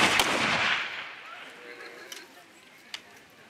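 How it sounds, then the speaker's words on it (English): A rifle volley fired on command at a Pecanapolooza event in Ste Genevieve, Missouri: one sharp outdoor blast that rolls off into a long fading echo, followed by a couple of faint distant pops. "Ready. Aim. Fire."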